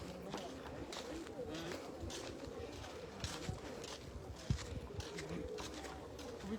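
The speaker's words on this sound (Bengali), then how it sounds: "এই কবুতরগুলো পাহাড় উপরে আছে।" Pigeons on Jabal al-Nour mountain near the Hira cave in Saudi Arabia, under harsh sun, coo and flutter amid steady open-air noise, with faint voices in the background.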